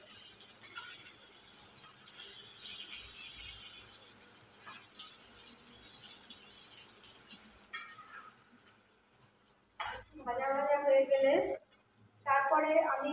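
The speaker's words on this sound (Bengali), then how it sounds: "কুমড়োটা একটু ভাজা ভাজা হয়ে গেলে" Pumpkin pieces frying in a pan with two dried red chillies give a steady, soft hiss and sizzle throughout, with a voice speaking briefly near the end.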